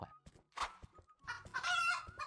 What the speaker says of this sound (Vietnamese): bắn trúng một con gà rừng rồi